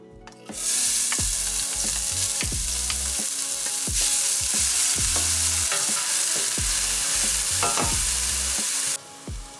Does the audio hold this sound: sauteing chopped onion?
yes